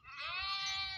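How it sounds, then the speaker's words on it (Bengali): A sheep on a river char island in Charfashion, Bhola, gives a single sustained wavering bleat, fairly close and clear, with no talk over it. "ওই যে ভেড়া, হাজার হাজার ভেড়া"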